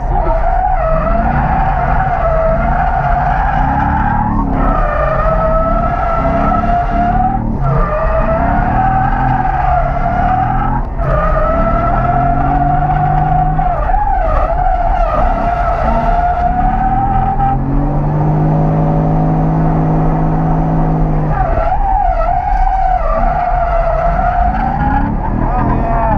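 A drift car on a track at full throttle: a loud, continuous engine roar with a wavering pitch as it revs, and long tire squeals and skids running under it without a break.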